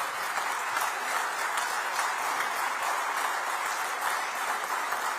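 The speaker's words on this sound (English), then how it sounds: "give an applause and, a big applause to the leaders here." Audience applauding leaders on stage at the inauguration of a digital delivery center in Nagpur, a steady, even wash of clapping from a large crowd, moderately distant.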